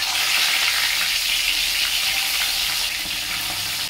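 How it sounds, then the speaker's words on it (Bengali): Cauliflower pieces frying in hot oil in a pan give a steady, dense sizzle with crackling spatter, close and loud throughout, with no voices. "ফুলকপিগুলো আমার ভাজা হয়ে গেছে"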